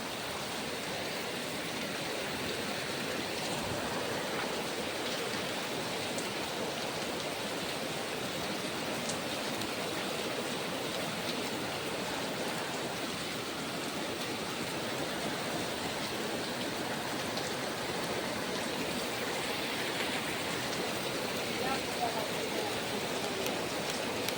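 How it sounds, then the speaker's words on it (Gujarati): Steady heavy rain pours down with an even, unbroken hiss from start to finish, with no let-up. "आयो आयो आयो फूल आयो वरसाद"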